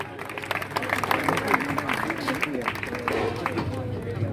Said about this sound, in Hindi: उस बच्ची के लिए जोरदार तालियां हो जाएं।